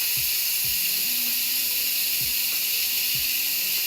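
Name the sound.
steam hissing while cooking ragu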